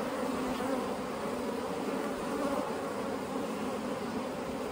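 Honey bees buzz steadily during a hive inspection, a continuous dense drone of many insects close by with no pauses or talk.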